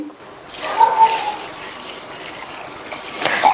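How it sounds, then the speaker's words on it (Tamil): Water pours into a pot of thick flattened rice (aval) for washing, a soft running gush with a couple of louder splashes, close by, with no speech. "தண்ணி சேர்த்து 2-3 தடவை நல்லா வாஷ் பண்ணிட்டு"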